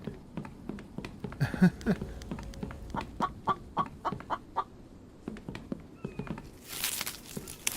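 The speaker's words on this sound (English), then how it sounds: "Chickens taunting us." Chickens in the video game The Infected cluck and squawk in short, irregular bursts close by, mixed with soft footsteps, before a brief rush of noise near the end.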